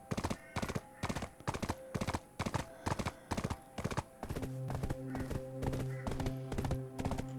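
Horse hooves clip-clop steadily in Black Desert Online, a regular run of loud, close, sharp strikes with a sustained musical tone joining partway through.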